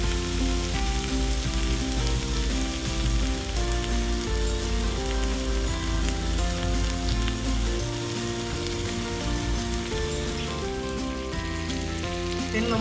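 Chicken fries in sunflower oil over high heat, a loud, dense, unbroken sizzle and crackle close up with a steady mechanical hum running underneath and no talking.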